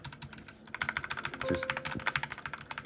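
Quick, even typing on a tenkeyless mechanical keyboard with unlubed red linear switches, a close run of crisp clacks with a brief spoken word partway through.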